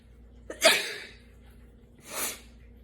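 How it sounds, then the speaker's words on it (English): A sharp, close sneeze bursts out, followed a moment later by a second, softer breathy burst, in an otherwise quiet room. "I sneezed."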